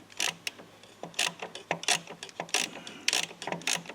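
A ratchet wrench works a stubborn bolt on an L5P Duramax turbo, sharp close clicks in short repeated bursts of back-and-forth strokes, no voices.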